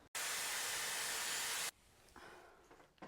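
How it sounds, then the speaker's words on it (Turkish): A hair dryer blows loudly with a steady rushing hiss for over a second, then cuts off, leaving quieter rustling afterward. "Şimdi fönle bu tutamların üstünden geçeceğim."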